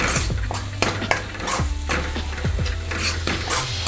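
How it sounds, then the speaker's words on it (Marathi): Goda masala and Kashmiri red chili powder are sautéed in a pan, with continuous sizzling and repeated scraping and clinking strokes of a spoon against the metal, loud and close. "आता आपण 2 मिनटं परतूया मसाला।"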